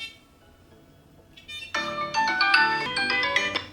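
A phone ringtone set off by a key finder gadget starts faintly, then breaks into a loud, bright melodic ring with repeated chiming notes, alone in a quiet house.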